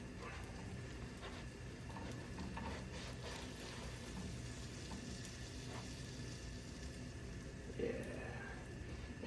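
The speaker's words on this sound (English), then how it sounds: "it's already starting to fry a little bit" Homemade country garlic bread fries in a pan with a soft, steady sizzle that stays faint and even throughout.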